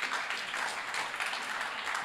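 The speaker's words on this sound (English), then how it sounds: "give yourselves a round of applause" Audience applause at the Consensus conference, a steady wash of clapping from a crowd that holds fairly even for about two seconds at moderate volume.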